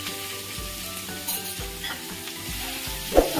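Amaranth leaves and moong dal hit a hot tempering of fried spices and sizzle steadily, with the scrape and clatter of stirring in the pan and a sharp knock near the end, and no talking.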